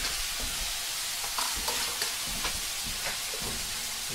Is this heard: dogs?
no